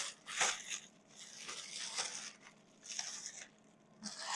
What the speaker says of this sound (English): Just going to unwrap this here.